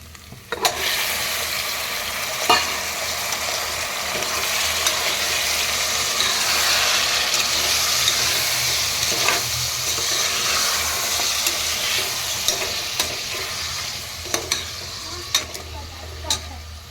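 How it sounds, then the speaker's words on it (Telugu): Washed mutton pieces frying in a pan for mutton curry, a dense continuous sizzle with repeated stirring scrapes and occasional clinks, close and steady with no talk. "కడిగి పెట్టుకున్నటువంటి మటన్ అయితే వేస్తున్నాను"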